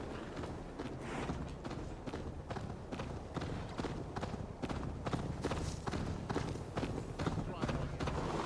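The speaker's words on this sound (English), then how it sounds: "Faster, Eivor! Ride like Sleipnir's hooves!" Horse hooves gallop in Assassin's Creed Valhalla, a steady, rapid clip-clop rhythm that runs throughout under a busy mix of game sounds.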